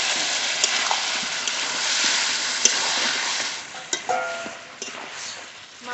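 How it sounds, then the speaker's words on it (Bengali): Chicken pieces stirred in a pot with the lid lifted, a soft continuous sizzle and bubbling wash behind scattered scraping and clinking strokes of a spoon against metal, close and steady. "ঢাকনা তুলে মাংস নেড়ে নেব।"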